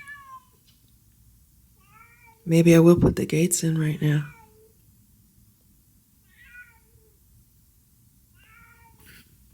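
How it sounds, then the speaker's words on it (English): A person speaks briefly, then a cat lets out a few soft, faint meows in a quiet room, spaced apart. "she's meowing"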